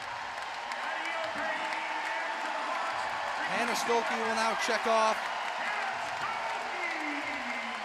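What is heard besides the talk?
loud basketball arena crowd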